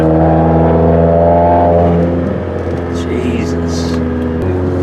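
A 2017 Subaru Forester XT engine revs loudly on a downshift, the pitch falling and then settling into a steady drone, with voices talking in the cabin.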